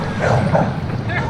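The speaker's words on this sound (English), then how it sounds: "I was messing with a dog that barked at me." A dog barks a couple of times during a group bicycle ride near Lake Conroe, the sharp yelps rising over steady wind and road rumble, with voices faintly under it.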